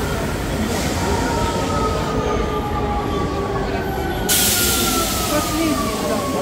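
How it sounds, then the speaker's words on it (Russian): A Rome metro train rumbles loudly along the track with rising, squealing wheel tones and a sudden hiss of air, voices talking over it inside a crowded carriage. "Атмосфера римского метро вам всем."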